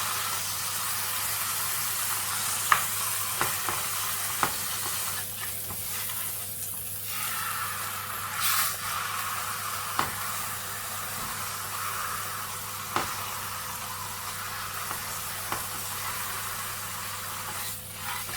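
Pork sides searing in a hot pan, a steady faint sizzle and hiss running throughout, broken by a few sharp clicks and a brief louder spatter midway.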